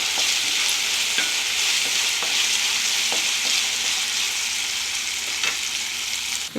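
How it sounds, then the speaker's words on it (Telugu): Fenugreek seeds and tempering spices crackle and sizzle in hot oil for a fenugreek stew, a constant close frying hiss broken by sharp clicks and scrapes as they are stirred. "ఇప్పుడు పోపు దినుసులు కూడా ఫ్రై చేసుకుందామండి బాగా."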